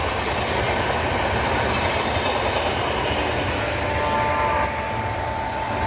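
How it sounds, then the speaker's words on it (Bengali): A train rumbles past in the distance near a picnic spot at Mukutmanipur, Bankura, a continuous loud roar with faint clatter of wheels on rails throughout. "বুঝতে পারছো ওদিকটাই ট্রেন যাচ্ছে"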